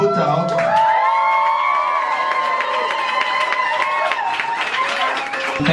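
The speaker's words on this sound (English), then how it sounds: "Everyone, please give a big round of applause to Zulfiqar Ali Bhuto." A crowd at an art event for a junior artist cheers and whoops loudly over clapping, with excited shouting voices sustained throughout.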